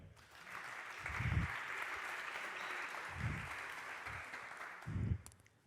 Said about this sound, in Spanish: por favor, un aplauso para Aníbal Santalla